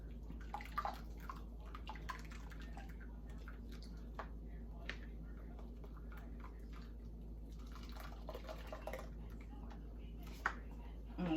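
Cold beer poured into a turkey brine, with soft splashing and dripping over a steady low hum, faint and close, and scattered small clinks and squishes throughout.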